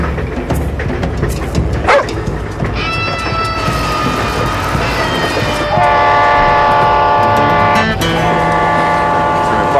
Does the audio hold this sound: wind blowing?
no